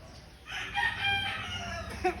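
A rooster crows once, a long drawn-out call rising and falling over a background of faint noise.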